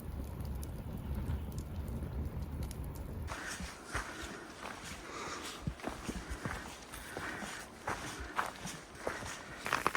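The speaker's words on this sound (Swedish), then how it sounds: "Här står vi i en rejäl regnskur vid Kungshallasjön" A heavy rain shower falls at Kungshallasjön lake on a hiking trail. Crackling patter mixes with crunching footsteps, and a low rumbling wind dominates the first few seconds.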